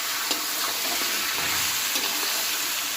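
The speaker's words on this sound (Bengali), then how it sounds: "মাংসটা এক মিনিট মতো নাড়াচাড়া করে আস্তে আস্তে মশলা দিয়ে দেবে" Chicken frying in a kadai while being stirred before spices go in, a continuous close sizzle with soft scraping of the spoon.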